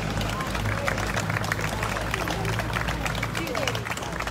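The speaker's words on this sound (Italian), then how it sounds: "salutiamo con un grande applauso" Applause from an audience at an indoor book presentation in Cancello ed Arnone, Italy: dense, steady clapping from many hands with crowd murmur, sustained at a constant loud level throughout.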